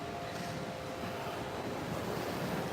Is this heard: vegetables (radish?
no